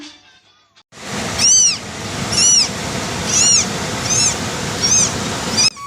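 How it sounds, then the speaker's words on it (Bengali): A small kitten meows pitifully about five times in a row, high and wavering cries close to the microphone over a steady rushing background. "হঠাৎ কানে এলো এক করুণ মিয়াও ডাক"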